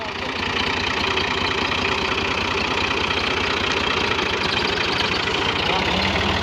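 Tractor engine running while driving along a riverside track, a loud continuous chugging drone with a steady rapid pulse throughout, with voices talking faintly over it.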